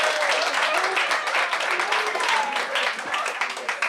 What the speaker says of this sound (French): Donnez-vous le bon applaudissement.